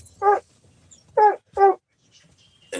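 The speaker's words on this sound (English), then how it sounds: "Walk these dogs until they stop barking." A dog gives three short, sharp barks up close, the last two in quick succession, with quiet pauses between.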